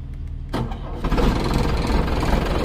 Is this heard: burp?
no